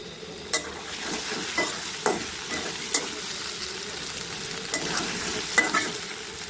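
Taro fries in a pan for a Bengali shoal fish curry, a steady sizzle broken by regular scraping strokes of a spatula stirring the pieces, close and clear.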